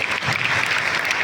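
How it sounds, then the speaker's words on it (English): Students applaud at a school closing ceremony for a Kabaddi regional meet, a steady, dense clapping from a crowd heard close and loud without talk. "please you have to clap to the NCC student as well as guide students"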